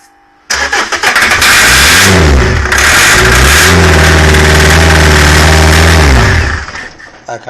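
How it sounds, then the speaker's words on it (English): A 2003 Renault Laguna 1.9 dCi diesel that will not start is cranked by its starter motor for about six seconds. The loud, steady churning whirr never catches or fires, then cuts off. "Phil, give that a crank."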